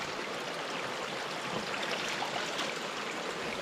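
Spring water wells out from under a rock at the foot of a mountain in the countryside, a steady, even rush of flowing water with no voices.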